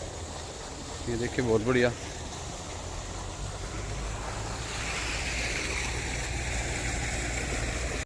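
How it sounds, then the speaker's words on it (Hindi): A tubewell pumps water into a rice paddy, a steady broadband rushing flow that fills the whole clip and grows slightly louder later, with a brief spoken comment near the start. "और ये ट्यूबवेल चल रहा है"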